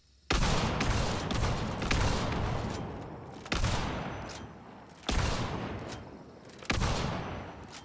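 Lever-action weapon fired from the hip in Hunt: Showdown, with four loud, booming shots spaced about a second and a half apart, each followed by a long rolling echo tail.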